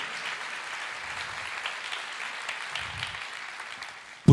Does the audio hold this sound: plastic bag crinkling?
no